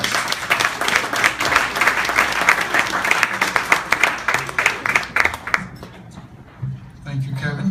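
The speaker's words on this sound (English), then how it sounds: "And a big round of applause for Jim Bailey," An audience at a jazz club gig gives a loud, continuous round of applause that thins out and fades near the end, leaving a quiet murmur.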